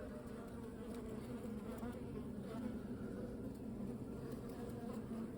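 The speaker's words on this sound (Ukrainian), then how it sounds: "Отут бджоли." A steady, low hum of many bees buzzing close by, a continuous drone with no voices.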